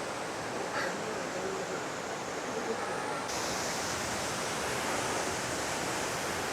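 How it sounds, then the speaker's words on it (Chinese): A small waterfall pours into a deep, clear pool along a clear river in Kochi, Shikoku, a steady, even rush of falling water that swells slightly louder partway through, no voices. "它上面有一个小小的瀑布在流下来"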